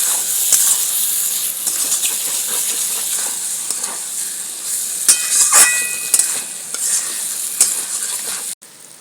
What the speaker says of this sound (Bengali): এই টমেটোটাকে দিয়েও ভালো করে মশলার সাথে ভালো করে কষে দেবো